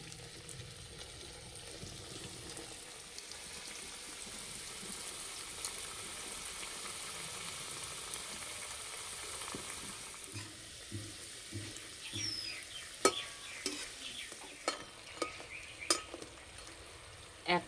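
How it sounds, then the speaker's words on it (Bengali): Potato snacks drop into hot oil and fry with a steady, moderate sizzle, followed by sharper crackles and pops toward the end as the pieces cook. "তেল গরম হয়ে গেছে, তেলের মধ্যে ছেড়ে দেব।"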